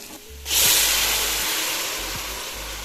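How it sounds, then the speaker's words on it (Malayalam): Measured water poured into a hot pot for Palakkad-style chicken biryani, bursting into a loud hiss of steam that holds steady and slowly fades, with a low hum underneath. "ഞാൻ വെള്ളം ഇതിലേക്ക് ഒഴിക്കട്ടെ. അളന്ന് വെച്ച വെള്ളം."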